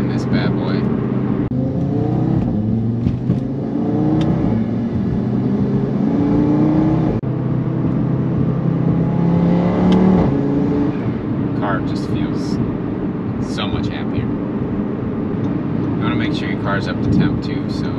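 An Audi RS3 engine runs loud and close at operating temperature, revving up and down in rising sweeps, with people talking over it toward the end.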